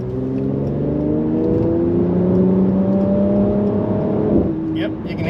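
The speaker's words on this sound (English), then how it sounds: "Yep, you can hear that exhaust." 2020 Mercedes C43 AMG accelerating hard on an open road, the engine and exhaust note rising steadily in pitch and holding loud and close for several seconds.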